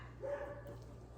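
Luna, a pet dog, gives a short, muffled bark or yip from across an indoor room, faint and brief against a quiet background hum.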